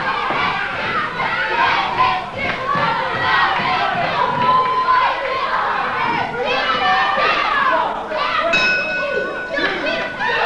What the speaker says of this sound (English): But you can hear the crowd here. They don't understand that. They're very quickly picking up the chant.